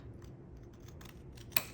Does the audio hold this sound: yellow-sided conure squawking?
no